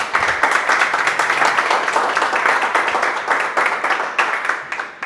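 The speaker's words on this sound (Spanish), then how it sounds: "aplauso fuerte" Loud, dense applause from a conference audience, steady clapping filling the whole stretch before tapering slightly at the end.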